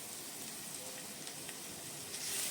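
Mustard oil sizzles in a wok, a steady, faint, even hiss that swells slightly at the end.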